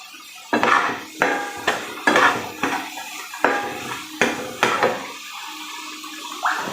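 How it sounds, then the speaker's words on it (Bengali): Dishes, pots and pans being washed after cooking, with repeated clattering knocks of utensils and metal cookware at close range, about a dozen sharp clanks spaced through the clip, with no talking. "এই রান্না করে আবার বাসন কোসনগুলো ধুয়ে মেজে রাখতে হবে"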